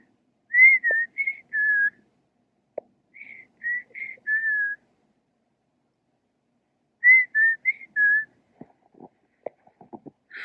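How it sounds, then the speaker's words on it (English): Unidentified bird whistles a sweet, warbling song in a front yard, short phrases of three or four notes repeated with pauses, fairly faint and alone, with scattered light rustling near the end. "I'm not sure what kind of bird that is, but that's such a pretty noise."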